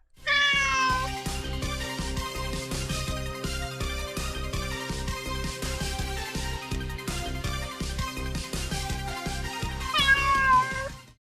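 A domestic cat meows in drawn-out, rising and falling calls at the start and again near the end, over a steady, rhythmic musical backing that runs throughout.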